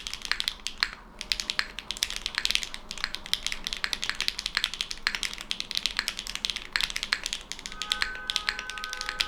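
Fast, continuous clacking of a mechanical keyboard being typed on, crisp and close, with no voices.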